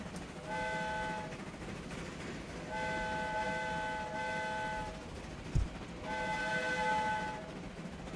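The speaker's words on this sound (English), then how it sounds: "DJ scratching the train horn, train whistle." In the Transport Fever 2 video game, a locomotive horn sounds three sustained multi-tone blasts over a steady rumbling, rattling train in motion, with no talking.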